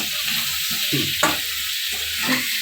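Banana curry made with seeded bananas fries in a pan, a continuous sizzle broken by several scraping stirs, close and fairly loud with no voices.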